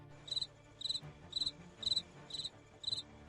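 Crickets chirping in a steady rhythm, six evenly spaced bursts of shrill trills, alone against a quiet background.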